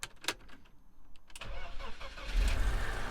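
A BMW E46 raised on jack stands cranks briefly after a few clicks, then catches and roars into a loud, rough idle with a deep low rumble from an exhaust leak, close by, with no talking.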